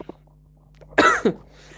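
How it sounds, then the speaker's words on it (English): A feverish streamer coughs twice in quick succession, two short harsh bursts close to the microphone, following a quiet moment with a faint earlier sound. "I apologize for the constant coughing"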